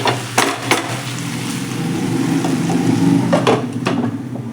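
Salted eggplant is stirred in a pan cooked without water: a sizzling hiss broken by several sharp clinks and scrapes of a spoon against the metal, close and fairly loud.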